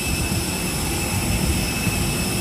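Jet engines of an ITA Airbus A320neo airliner roar at the gate at Rome Fiumicino airport in a steady, loud whine and rumble, with a constant high-pitched tone over the broad engine noise.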